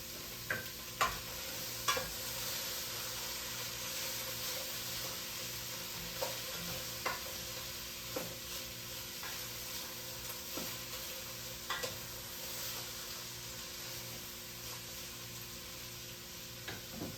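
Roux for lentil soup cooking quietly in a pot, a soft steady sizzle with occasional light scrapes and taps of a spoon scattered across the stretch, no talking.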